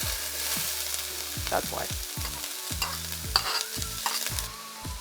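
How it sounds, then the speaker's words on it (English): A cup of onion sautés in about two tablespoons of bacon fat, a close, steady sizzle broken by stirring scrapes, while a brief voice speaks over it and low music plays underneath. "We are going to saute 1 cup of onion."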